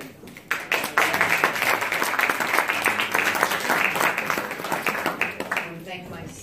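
A live audience breaks into broad, sustained applause at a live-streamed speech honoring Congresswoman Yvette Clark. The clapping swells within a second, holds steady and fairly loud, then tapers near the end, with a voice over parts of it.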